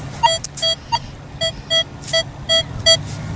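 A Nokta Makro Legend metal detector in saltwater sounds a series of about ten short, sharp electronic beeps in an uneven rhythm, close and clear over quiet background.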